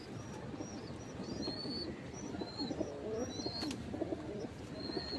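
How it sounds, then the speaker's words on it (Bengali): Closed-tail pigeons coo softly in a steady low murmur, with scattered chirps from other birds above and a constant background hum throughout. "যা পায়রা দেখাচ্ছি তোমাদেরকে সব বন্ধ লেজের পায়রা হবে"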